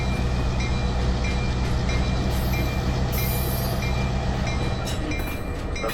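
A model train consist on a layout being pushed along the main line, giving a steady continuous rolling rumble with faint wheel clatter, close and even throughout, no voices.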